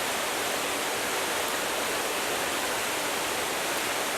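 Waterfall at Saint Nectan's Glen, a steady dense roar of falling water that fills the whole stretch evenly without pauses or voices.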